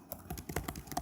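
Typing on a computer keyboard, a quick run of about nine or ten soft, close key clicks in an uneven rhythm, quiet and alone.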